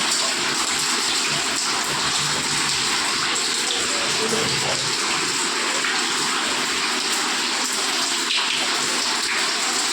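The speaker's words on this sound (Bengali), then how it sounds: "দিন রাত 24 ঘন্টা বৃষ্টি পড়ছে" Heavy rain pours down in a constant, dense roar, splashing on surfaces without pause, with no voices heard.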